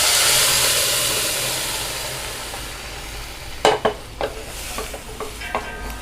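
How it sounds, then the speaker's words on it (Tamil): Cooked lentils for a ridge gourd sambar are poured into a hot pan, damping a loud sizzle that fades away, followed by a few sharp clinks and scrapes of stirring. "இப்போ வந்து நம்ம ஆல்ரெடி நம்ம வேக வச்ச பருப்பை இதில் ஊற்றிக்கலாம்."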